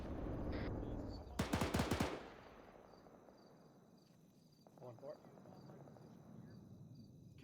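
A tank fires in a military video game with a quick burst of heavy rapid shots early on, then a fainter crackle of distant fire over steady background ambience, with talk over the radio.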